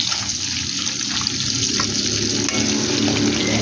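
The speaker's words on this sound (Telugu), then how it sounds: "ఈ గోల్డెన్ కలర్లో వచ్చేదాకా ఫ్రై అవ్వాలి." Dried fish fry in hot oil until golden, giving a loud, continuous close-up sizzle with light stirring and no voices.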